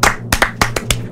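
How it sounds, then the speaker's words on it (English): Audience clapping for a former footballer at a studio presentation, five or six sharp claps in an uneven rhythm, close and fairly loud, with no voices over them. "So firstly, a big round of applause for Jack Wilshere."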